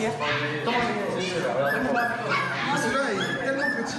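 A small dog barks and whimpers in rapid, high-pitched yips, close and continuous, while people speak French over it.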